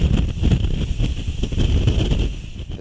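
Super Typhoon Haiyan lashes the Philippines with winds of about 195 miles per hour, a loud, continuous roaring rumble with buffeting gusts close to the microphone.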